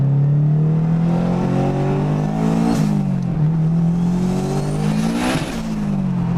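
A turbocharged 500 hp 2003 Honda S2000 (AP1) engine revs hard and steadily in cold weather, pitch climbing and dropping twice with brief lifts between pulls, loud and close with no talking.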